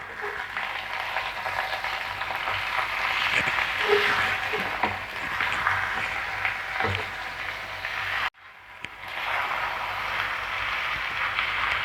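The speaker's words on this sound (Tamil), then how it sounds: "இப்போ இதை கிளறி விட்டுப்போம்" Chicken already marinated with spices, frying in a pan for a coconut chicken curry: a steady, dense sizzling hiss with faint stirring knocks, broken by a brief drop-out near the end before the sizzle resumes.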